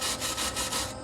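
Wire brush scrubbing rough welds on a steel heat treatment oven door, quick loud back-and-forth strokes in a steady rhythm, about five passes in a second, very close, no talking.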